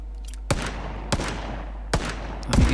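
Gunfire in the game PlayerUnknown's Battlegrounds: four sharp, loud single shots at uneven intervals, each with a short echoing tail, the last followed by a brief rumble.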